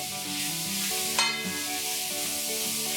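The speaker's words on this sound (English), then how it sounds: "a tablespoon of garlic paste, a tablespoon of ginger paste, and let's just saute this till the raw smell goes off" Ginger and garlic paste sauté with onions in a hot pan, a soft steady sizzle with light stirring scrapes and a brief clink of a utensil partway through, with faint music underneath.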